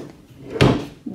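The drawer of a buffet table slides open or shut with one short wooden knock and scrape, close and fairly loud, with a lighter bump just after.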